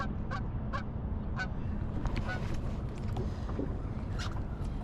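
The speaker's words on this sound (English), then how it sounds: "Oh, there's some geese." Several geese honk in short, sharp calls at a distance over a low, steady rumble of water and boat motor noise on a river at De Pere.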